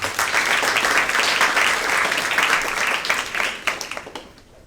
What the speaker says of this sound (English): Please welcome them all with an applause.